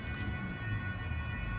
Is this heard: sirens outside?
yes